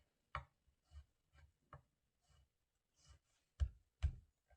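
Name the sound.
knife finely chopping and mincing vegetables for jangguk porridge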